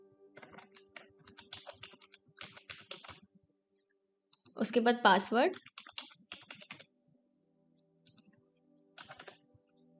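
Rapid bursts of clicking on a computer keyboard as a mobile number and password are typed into an online registration form, in short clustered runs, with a voice speaking briefly in the middle.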